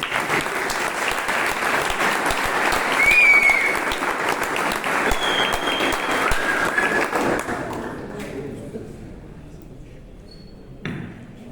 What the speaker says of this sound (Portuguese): vou pedir aqui mais uma vez salva de palmas para ele